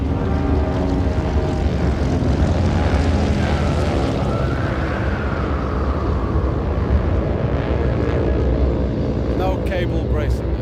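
A Fokker propeller airplane with many engines in its wide wing drones loudly and continuously throughout, with voices faintly underneath.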